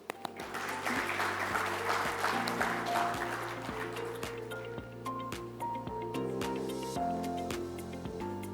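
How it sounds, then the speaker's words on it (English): Audience applause at a business summit awards ceremony as presenters join a dignitary on stage. It is steady and sustained and fills the hall, with a tonal musical bed running under it throughout. "And we can help them with a round of applause."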